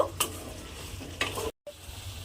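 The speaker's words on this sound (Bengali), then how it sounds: "চিড়েটা আমি এর মধ্যে দিয়ে খুব ভালোভাবে মিশিয়ে নেব।" Fried flattened rice (chira) stirred into a curry in a pan, a few soft scraping spoon strokes over a faint sizzle, broken by a brief moment of silence, no speech.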